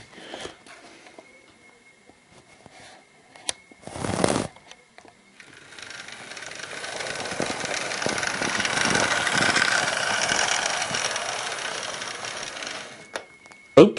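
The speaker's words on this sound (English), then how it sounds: "let's give it a final run through" Hornby Flying Scotsman A3 model train in wartime black running on track, a steady whirring motor hum that builds and sustains with faint clicking over rail joints, after a few quieter bumps and taps.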